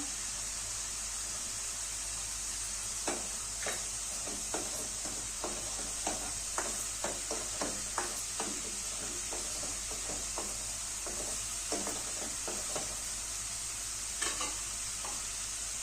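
Ginger garlic paste frying in oil with cooked onion-tomato masala, with a steady high sizzle throughout and a run of soft irregular scraping stir strokes from a spoon in the pan, fairly quiet and with no talking.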